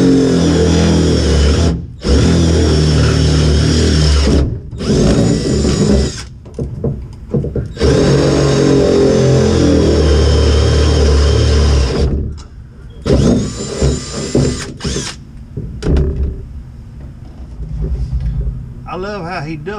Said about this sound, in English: Getting our holes drilled in for our brackets.